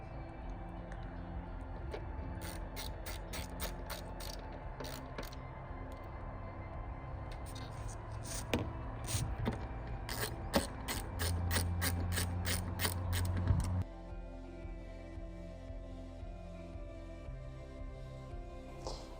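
A ratchet tightens M6 countersunk bolts while a roof rack is fitted to a Land Rover Discovery 3 or 4, giving close, rapid bursts of crisp clicking in repeated strokes that stop abruptly near the end, with no voices.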